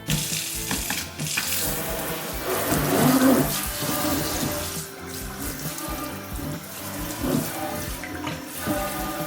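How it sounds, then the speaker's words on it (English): Running tap water splashes steadily into a sink, close by, with shifting hiss and light clatter as something is rinsed under the stream during a cleaning test. "basically you just rinse it with water and it's supposed to be good"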